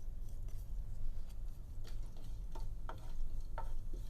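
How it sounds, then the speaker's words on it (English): Dry whole spices fry in hot oil for mushroom masala, a low steady sizzle broken by a few sharp, scattered pops and crackles close by, with no talking. "So I've started to hear the popping sounds, and there's also a change in color."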